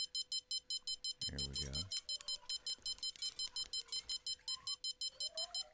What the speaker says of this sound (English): this is the first time I've actually heard the rod stand alarm